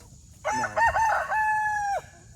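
A rooster crows once, close and loud, with a stuttering start and a long drawn-out final note over faint background noise.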